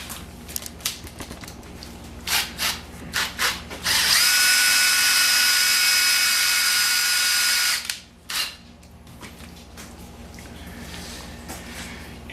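A few scattered clicks and knocks, then a cordless drill whirs steadily for about four seconds before stopping, with quieter handling noises afterward; the drill runs at low RPM.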